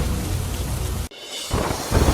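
Heavy monsoon rain beats down in Sutrapada, Gir Somnath, a loud continuous roar that cuts off abruptly partway through before the downpour resumes, with no voices.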